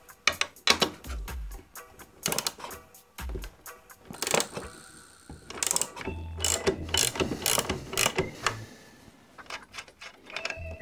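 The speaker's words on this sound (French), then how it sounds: "Donc avec une clé de 14 et une clé plate pour bloquer en rotation l'axe," A 14 mm wrench ratchets while unscrewing a nut on an engine frame during crankshaft removal, held with a flat wrench; irregular clicking ratchet strokes and metallic clinks sound close, in short bursts with pauses and no talking.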